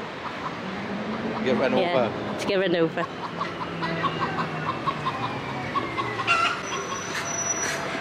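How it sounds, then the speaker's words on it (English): A loud chicken clucks and squawks in bursts near a queue for a bus by S'Arenal beach in Majorca, mixed with a low rumbling vehicle hum and people talking over it. "I caught a very loud chicken."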